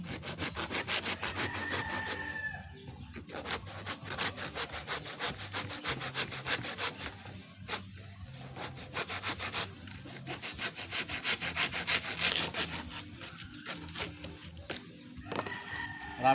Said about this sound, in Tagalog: Kaya lagari muna, total matalim naman ng lagari.